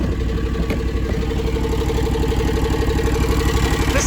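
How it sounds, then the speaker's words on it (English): A John Deere X720 garden tractor's 25 hp liquid-cooled, horizontal-shaft Kawasaki engine idles steadily up close, a loud, even mechanical drone with no voices. "This X720 features a 25 horsepower Kawasaki engine."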